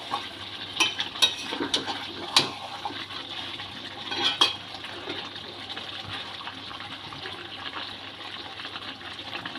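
Water added to chicken that has been braised for fifteen to twenty minutes in a light curry, a splashing pour with clinks of a pot and utensil early on, then a steadier bubbling wash that fades down.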